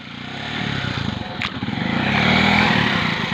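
A motorcycle on a rough local road, its engine droning steadily and swelling louder as it draws closer, with rattly mechanical clatter throughout.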